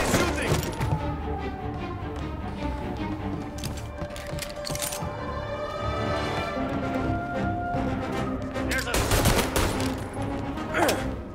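Police shootout gunfire in Mafia: Definitive Edition, with bursts of shots and rapid volleys cracking close and loud, mixed with game voices shouting.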